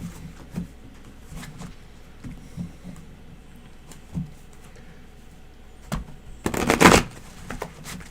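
A deck of tarot cards is shuffled at close range, with soft scattered riffles and taps giving way to a brief, louder burst of rapid card flutter near the end.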